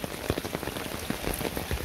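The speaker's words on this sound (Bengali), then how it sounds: "তো বৃষ্টির অবস্থা" Steady rain pours down in a village, drops pattering densely and close on surfaces with scattered sharper splashes, no voices over it.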